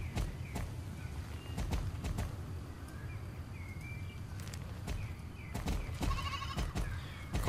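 A sheep in the Star Stable horse-riding video game bleats several times, with thin, short calls over a soft ambient bed and scattered clopping hoofbeats nearby.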